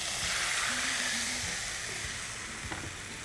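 Loud steady sizzling and frying, a broad hiss of rasam poured into hot tempering oil, with faint stirring clinks underneath.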